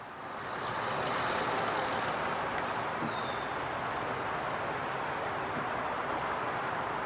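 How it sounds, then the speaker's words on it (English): Water pours steadily into a plastic aquarium filter box, a constant broadband rush that swells in within the first second and then holds even and close. "I filled it up with water again."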